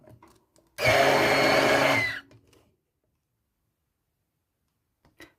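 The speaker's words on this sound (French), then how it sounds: "je vais mixer des graines de mango ou des graines de soja en petite quantité" A blender grinding a small amount of mung beans whirs loudly for about a second and a half, then stops abruptly, leaving near silence with a faint click afterward.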